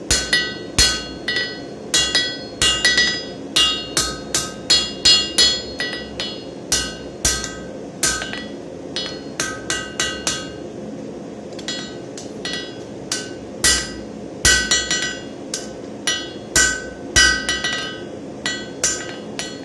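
Rapid, ringing hammer blows on hot steel while forging a square point, loud and close, in uneven bursts of quick strikes with brief pauses between them.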